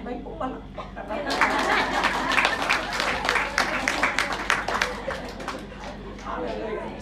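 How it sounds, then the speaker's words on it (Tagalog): Congregation clapping during a church sermon, a steady dense patter of many hands that swells after the first second and holds loud throughout, with some crowd noise mixed in. "May pumalakpak ka na."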